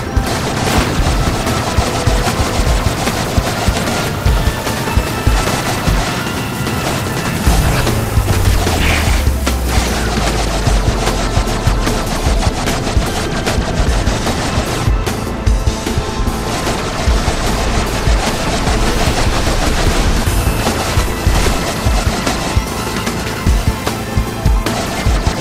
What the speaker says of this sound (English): I'll lay down cover fire.